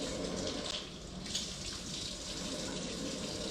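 Running tap water splashes steadily over the Almond Cow machine base as it is rinsed, a soft continuous gushing hiss without pause.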